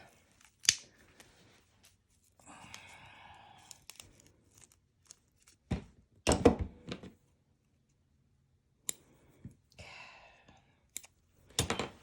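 Pinking shears cutting, close and quiet: several separate bursts of crisp snipping and rasping with long silent gaps between them, and no talking.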